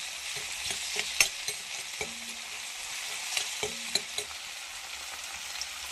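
Tomato and coconut frying in a pan for avarakkai thoggu, stirred with a utensil: steady close sizzle under repeated sharp scrapes and clicks against the pan, no voices.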